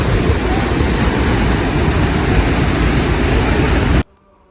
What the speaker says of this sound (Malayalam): അത്യാവശ്യം നല്ല വെള്ളച്ചാട്ടമൊക്കെയാണ്